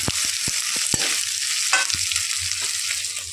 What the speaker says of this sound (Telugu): ఉల్లిపాయలు క్యారెట్లు అన్నీ వేగిన తర్వాత ఈ ఎగ్స్ని ఇందులో వేసుకోవాలి